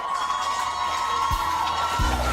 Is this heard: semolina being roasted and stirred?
no